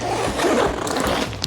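Zipper pulled open on the expansion compartment of a Thule backpack, one continuous close, rasping run of teeth lasting over a second, loud and with no talk over it.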